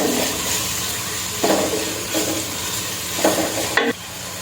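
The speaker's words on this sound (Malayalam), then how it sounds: "ഉപ്പ് ചേർത്ത് കൊടുത്തു. നല്ലപോലെ വഴറ്റിയെടുക്കാം." Chicken biryani base sautéing in a pan with salt, a continuous close sizzle broken by several scraping stirs of a spatula at intervals, with no voices.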